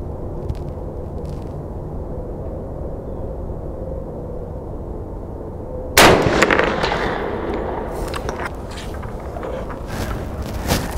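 A single loud rifle gunshot firing .444 Supercharged FTX ammunition outdoors, a sharp crack midway followed by a rolling echo, over a steady background rumble of wind.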